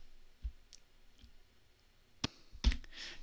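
Mouse clicks while working in Maya software: a few sparse, sharp clicks spread over a quiet background, close and faint.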